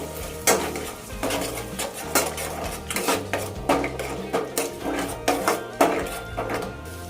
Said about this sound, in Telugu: గుడ్లను ఈ విధంగా కలుపుకొని